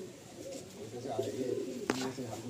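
Abluk pigeons in a Madrasi pigeon loft in Kolkata give soft, low cooing calls, close and quiet against a faint background hum.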